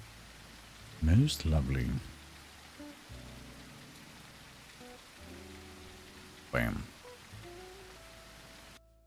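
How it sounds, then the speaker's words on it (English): A played rain sound effect hisses as a soft, steady patter throughout, with someone talking over it in a couple of bursts. "No more rain sounds."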